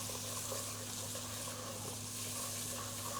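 Rosemary, oregano and thyme frying in hot oil in a kitchen pan give a steady, soft sizzle that holds even throughout, over a low electrical hum.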